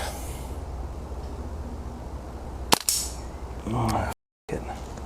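Single sharp crack of a Walther Rotex RM8 air rifle shot at night during hunter field target shooting, close and loud, followed by a brief metallic ring.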